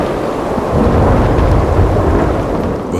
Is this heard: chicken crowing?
no